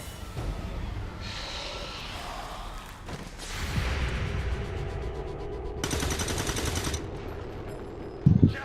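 Alien-war gunfire in the strategy game XCOM 2 War of the Chosen: a couple of sharp weapon shots, then a dense, loud automatic burst lasting about a second, over a low ambient game drone.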